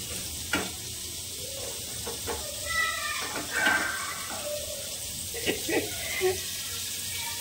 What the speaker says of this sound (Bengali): এই যে কুলেখাড়া সেদ্ধ করা হয়েছে, গরম তো এটা, ঢেলে ঠান্ডা করতে হবে।